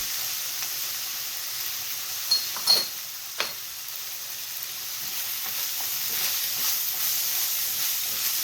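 Onions sautéing in a pan with salt and pepper, a steady soft sizzle with a few brief clinks and stirring taps near the middle, close.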